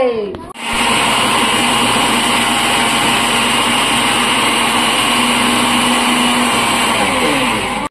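An electric blender whirs loudly and steadily, grinding a milkshake with sugar, ice cream and milk at home, switching on after a brief pause and running continuously at high speed until abruptly stopping.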